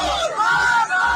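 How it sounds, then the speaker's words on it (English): Protest crowd chanting at Amini's funeral, a massed chorus of raised voices in short rhythmic bursts, loud and close. "Women took off their hijabs and the crowd started chanting."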